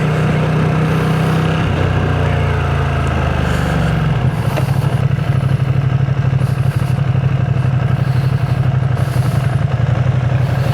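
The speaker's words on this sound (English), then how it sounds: "Nothing quite like the sound of a Ducati L-twin in flight." A Ducati Scrambler 1100 with an air-cooled L-twin engine running at speed, a steady loud drone that shifts down in pitch about four seconds in, then holds a strong even rumble with no voices.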